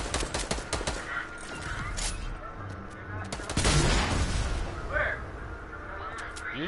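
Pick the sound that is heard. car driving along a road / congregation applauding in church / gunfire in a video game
gunfire in a video game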